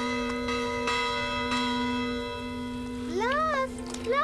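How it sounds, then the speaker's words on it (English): A bell rung by a polar bear cub in a 1994 animated children's film, giving several sustained, ringing tones with overlapping strikes, followed by a rising and falling whistling, chirping sound near the end. "Lars retrieved the ding-dong from the water and was ringing the bell"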